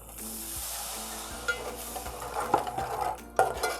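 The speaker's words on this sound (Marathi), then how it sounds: "आत थोडंसं परतवून घेते मसाला आपला तेलावर शिजून झाला आहे" Masala paste sizzling in hot oil while being stirred for a Koli-style rani fish curry, with a steady soft fry under sharp spoon scrapes and clinks against the pan.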